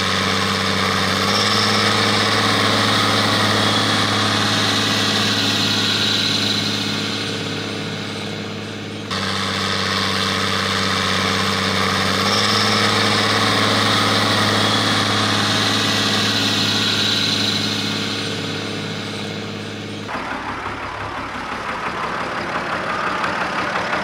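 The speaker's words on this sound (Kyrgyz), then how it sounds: "мен азыр бул айдоо аянттын баш жагына бир ирет трактор айдап барып келдим" A tractor engine idles steadily out in a plowed farm field, a loud continuous mechanical drone with a strong low hum, dipping briefly before resuming, then roughening into a lower rumble near the end.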